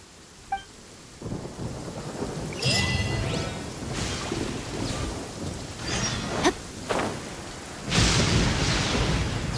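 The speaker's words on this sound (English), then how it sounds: "The rain has stopped." Heavy rain falls in the video game Genshin Impact while several loud thunder cracks and rolling rumbles break through at irregular intervals, with no voices present.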